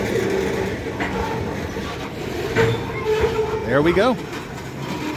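A train rolls through a crossing on a pedestrian path in a metropark, a steady rumble with wheel squeal rising near the end, while people talk over it.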